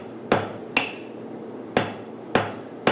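A rounding hammer strikes hot steel during forging, five sharp ringing metallic blows at an uneven pace, close and loud with brief decaying rings between them.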